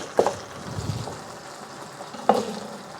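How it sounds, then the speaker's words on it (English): Garlic cloves being crushed in a kitchen, two sharp crunching cracks separated by a pause, with quieter rustling between, close and otherwise quiet. "Just gonna crush the garlic."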